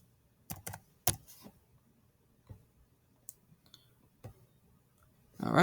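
Computer keyboard typing while entering a right Riemann sum calculation, heard as scattered, irregular clicks and taps at close range, with a louder burst of noise at the very end.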